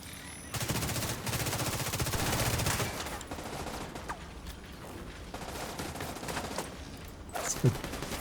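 Automated turrets in a video game fire in dense, sustained bursts, loud and rapid from about half a second on, easing slightly toward the end with a sharp crack near the finish.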